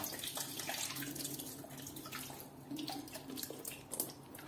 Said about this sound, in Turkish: Yine sudan geçiririz.